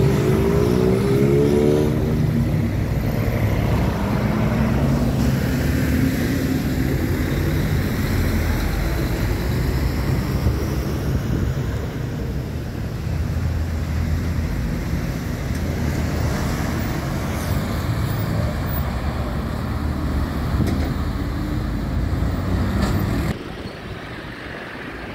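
Road traffic on Estrada do Alvarenga, a busy road leading to a highway, rumbles continuously, with trucks and cars passing close by, engines accelerating, and the noise easing slightly near the end; no voices.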